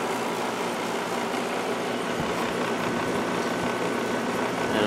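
A 1994 White Westinghouse 5,200 BTU window air conditioner running on low, producing a steady, even mechanical hum and whoosh of airflow close by, unbroken and without speech, swelling slightly at the very end.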